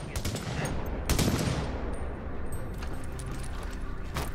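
Rapid gunfire in the shooter game Tom Clancy's The Division, with bursts of automatic shots crackling loudly and continuously throughout, a strong burst near the middle, and a game-world mix underneath.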